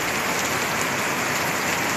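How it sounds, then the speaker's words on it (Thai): Heavy rain falls in a flood-hit area, a dense, loud, continuous patter on surfaces, close by, with no voices. "ฝนตกมาแล้ว"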